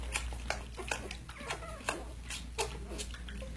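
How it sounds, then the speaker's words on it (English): A litter of ten newborn puppies suckles from their mother dog, giving soft wet smacking and squeaky patters close by in an uneven rhythm over a low steady hum. "You hear the suckling?"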